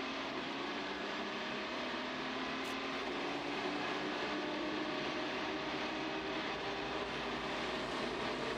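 Race car engine at the ALMS Long Beach 2008 street race, a steady broadband roar holding throughout as the car backs off the throttle slightly, loud and continuous with no talk.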